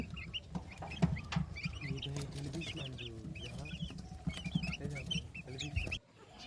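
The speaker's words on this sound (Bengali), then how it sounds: "দেখুন এখানে আমার ছোট বাচ্চাগুলো দেশি মুরগির বাচ্চাগুলো কিভাবে খাচ্ছে" Small native-breed chicks cheep and cluck busily close by, many short high peeps overlapping while they feed, with a low voice murmuring underneath.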